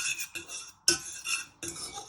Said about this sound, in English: you just want to give this a good stir